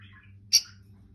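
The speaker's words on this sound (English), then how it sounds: "Making a little chippy noise." A fallen baby bird that cannot yet fly gives a single short, high chirp, close and fairly clear over a low steady background hum.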